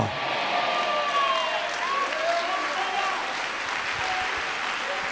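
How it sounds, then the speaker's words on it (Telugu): A church congregation applauds in a continuous wash of clapping that holds steady, with a voice speaking over it. "కొంతమంది చప్పట్లు కొడుతున్నారు కన్నీరు కార్చుకుంటూ"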